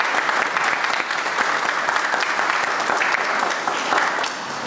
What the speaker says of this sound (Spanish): al cual pido un aplauso.